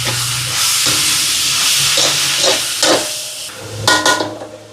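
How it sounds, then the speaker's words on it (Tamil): A frying mixture with tomato sauce sizzles and hisses loudly in a pan while being stirred, with scraping spoon strokes and bubbling bursts over a steady hot sizzle, no voices. "கலந்து விடுவோம்."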